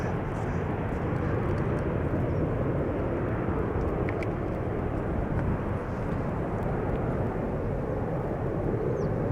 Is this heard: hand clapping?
no